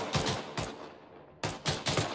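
Bursts of automatic machine gun fire in a military shooter video game, several loud rapid volleys separated by a short pause, close and with no talk.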